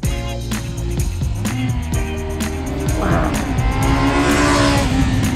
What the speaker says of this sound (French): c'est le bon 4 cylindres là